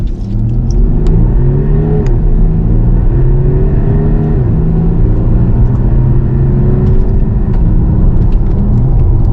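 A Porsche Cayenne Diesel with a 262 hp V6 pulls hard at full throttle, its deep engine drone climbing steadily, dropping briefly at gear changes and rising again, loud and continuous.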